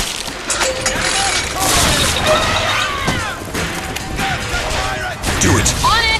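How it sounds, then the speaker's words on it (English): In the video game Bioshock Infinite, a fire cannon blasts amid chaotic combat, with loud booms, crashes and whooshing bursts layered densely over several seconds of gunfire and action noise. "Hold on! It's got a fire cannon!"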